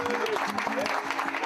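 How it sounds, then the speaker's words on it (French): An audience applauds a guest with a brief burst of dense clapping, mixed with a voice over it. "Un tonnerre d'applaudissements pour mon nouvel ami, Didi."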